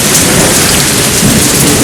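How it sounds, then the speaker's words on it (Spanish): Steady heavy rain with deep rolling thunder in a dark, windy storm, a continuous loud wash of falling water with a low rumble swelling near the end, no voices. "el cielo se oscurece con nubes, con viento, con truenos, y después de 3 años y medio empieza a oírse una lluvia"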